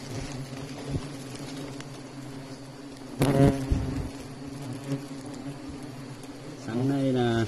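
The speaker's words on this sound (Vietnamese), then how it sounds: "Xem cận cảnh dưới tổ ong nhá." Wasps buzzing around a wild wasp nest in the forest, a thin continuous droning hum close by, with a few sharp knocks and rustles and a brief louder buzz near the end.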